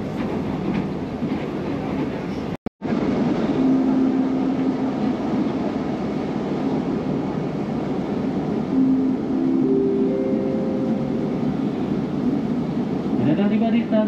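Inside a KAI KRL commuter train running between Yogyakarta and Solo, a constant rolling rumble with faint clatter carries on while a public-address announcement plays over it.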